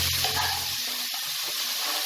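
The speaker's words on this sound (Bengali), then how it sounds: "পেঁয়াজটাকে হালকা ব্রাউন করে আমি ভেজে নেব" Sliced onions with bay leaves fry in oil for Kolkata-style mutton biryani, giving a dense, steady hiss throughout while a low background hum fades out early on.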